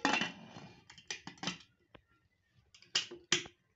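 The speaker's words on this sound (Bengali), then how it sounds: "এইবারে আমি ঢাকনা লাগিয়ে দেবো" A metal pressure cooker lid is fitted in place over a bowl of sponge cake batter, giving several sharp metallic clicks and clacks close by, with pauses between them.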